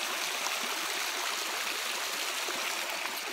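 A small waterfall beside a hiking trail, a steady, close rush of falling water with bright hiss and gentle gurgling that stays even throughout, with no voices.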